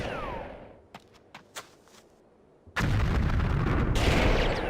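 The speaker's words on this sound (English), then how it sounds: "See if we can just toss a grenade in here." In the video game Army Men Air Attack, a grenade goes off with a sudden loud blast that roars steadily for about two seconds, after a few faint thuds and pops.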